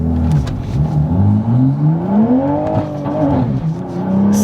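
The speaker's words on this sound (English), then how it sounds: "I'm going to try to launch the car real quick" A Toyota GR Supra 3.0 with a manual gearbox, making upwards of 450 horsepower, launches hard. Its engine revs climb and fall under a steady rush of wheelspin, heard close up with no talk.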